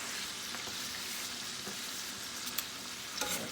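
Onions and garlic sizzling in a pan while lamb loin chops are prepared, a steady close frying hiss with a couple of light utensil taps toward the end, no voices.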